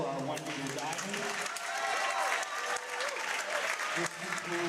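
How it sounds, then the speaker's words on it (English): Crowd applause for 1 meter divers at a college swim and diving meet, dense clapping echoing in an indoor pool hall, mixed with cheering and voices calling out throughout. "A round of applause for our 1 meter divers."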